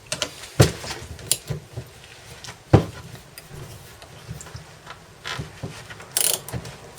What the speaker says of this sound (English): I'm going to check it with a wrench here, just so I'm confident that it is tight.